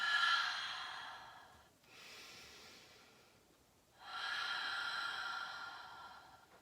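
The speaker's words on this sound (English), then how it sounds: "Deep breaths here." Deep, slow breaths during a yoga class: two long, airy exhales at close range with a softer inhale between them, and no talk over them.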